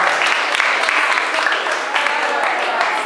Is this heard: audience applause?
yes